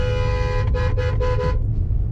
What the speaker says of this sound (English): Amish boys wanted me to honk at them.